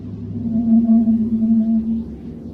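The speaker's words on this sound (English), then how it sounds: "this sound is due to the constant collision of Saturn's rings with each other" Slowed-down space recording presented as Saturn's rings colliding: a steady, loud low drone with a sustained tonal hum and a fainter higher overtone, swelling slightly in the middle and fading toward the end, with no voices.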